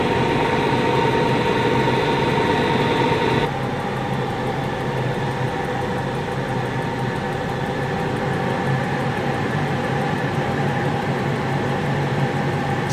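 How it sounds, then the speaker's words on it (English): An electric motor driven by a Chinese KLC 4000-A1 speed controller runs noisily at high voltage, giving a steady, loud whine and hum with a sudden drop in pitch and level a few seconds in before it continues evenly. "The motor is running rather noisy."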